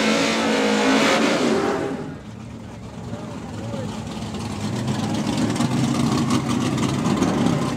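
Drag racing cars in a heads-up list-vs-list shootout make a run down the strip, a loud roaring engine pass that fades toward the top end, with a commentator talking over the steady race noise.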